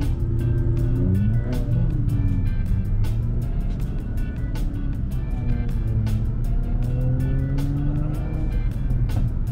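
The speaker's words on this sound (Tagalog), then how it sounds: "Yan yung mga sasakyan, yung ganyang mga sasakyan." Cars drive along a San Francisco street with a steady close engine rumble and rising and falling tones as vehicles pass and accelerate, a continuous loud traffic wash.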